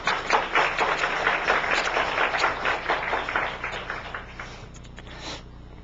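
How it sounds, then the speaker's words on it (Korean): Church congregation clapping together at a Sunday service, a dense steady patter of many hands that runs strong for several seconds, then thins out and fades toward the end. "다 같이 박수를 한번."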